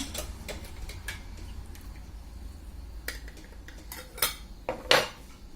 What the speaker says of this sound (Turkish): Şimdi sıcak kapağı kaynak sudan alayım.